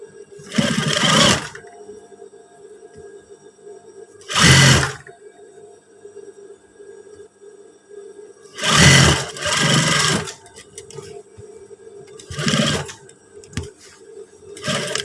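Sewing machine stitching a trouser pocket flap, short loud bursts of whirring spaced a few seconds apart over a low steady hum, close by.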